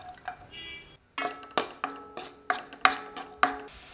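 Five or six finely chopped garlic cloves sautéing in a spoonful of oil in a pan, with a soft sizzle and a series of sharp, regular clinks and scrapes as a spoon stirs them.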